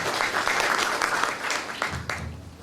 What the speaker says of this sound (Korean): 네, 박수로 맞으시기 바랍니다.